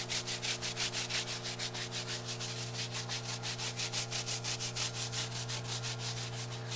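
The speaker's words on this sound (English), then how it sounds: "I'm using just the brush, brushing it on thick, and then coming back and wiping it off" Brush rhythmically scrubbing thick tire dressing onto truck tires, then wiping it off, with steady repeated strokes close up, alone under a constant low hum.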